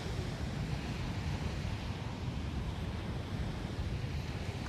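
Steady wind roars across a beach during a drone flight, a loud, continuous broadband rush that buffets the microphone with no pauses or voices.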